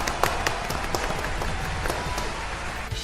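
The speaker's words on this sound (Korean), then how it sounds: "박수 부탁드립니다." An audience at a Korean workplace safety event applauds a winning safety team leader. The clapping is steady and dense but fairly soft, forming a brief, even patter.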